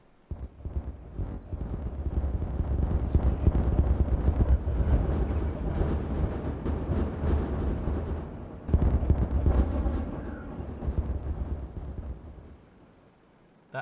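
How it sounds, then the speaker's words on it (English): A regular kaboom in the video game Timberborn, a long rumbling, crackling blast that roars steadily for many seconds, briefly surges again, then fades away. "Not a SAM explosion, but a regular kaboom."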